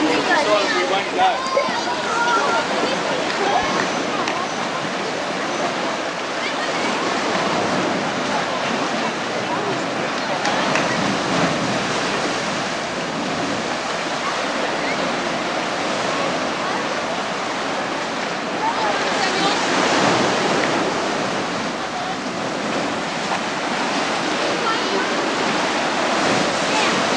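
Ocean waves break on a Tasmanian shore in a steady, loud roar of surf with wind buffeting the microphone throughout, and voices are heard faintly beneath the wash.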